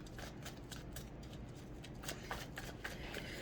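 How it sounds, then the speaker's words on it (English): A tarot card drawn from the deck, soft close shuffling and card-sliding rustles with several crisp flicks. "I'm pulling the card for it"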